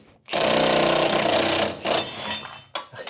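A half-inch Milwaukee impact wrench with 1,100 lb-ft of torque hammers loudly at a very tight bolt on an E30 M3 subframe, one sustained rattling burst of about a second and a half, then shorter bursts and workshop clatter.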